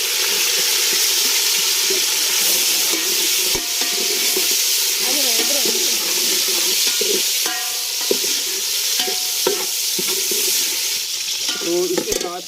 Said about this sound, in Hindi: ऑयल गर्म हो गया है तो ये 2 दरमियानी साइज़ के प्याज इसमें डाल देंगे।